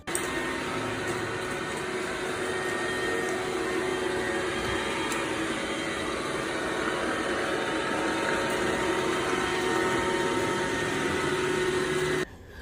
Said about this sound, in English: The vacuum's running.